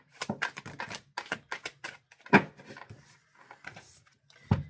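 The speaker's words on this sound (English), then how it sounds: "Okay, last shuffle." Playing cards are riffled and shuffled in quick bursts of crisp flutters and taps, followed by a short pause and a final snap.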